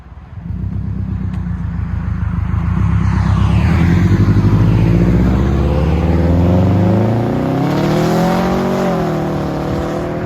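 A 2006 Subaru Outback XT with a Flowmaster Super HP2 exhaust starts up and revs, its loud, close engine note climbing and rising and falling in pitch over several pulls, with no talking.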